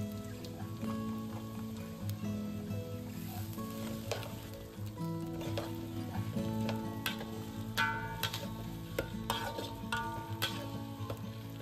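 Chili paste for sambal bee hoon fries in a pan over low flame, a steady dense sizzle with frequent crackles and occasional stirring scrapes, close and continuous without speech.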